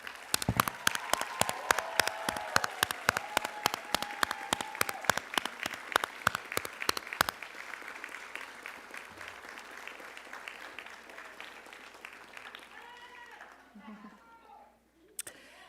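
Graduates and guests at a nursing pinning ceremony clap, sharp rhythmic claps standing out for the first seven seconds before softening into scattered applause, with voices and murmuring beneath as it fades.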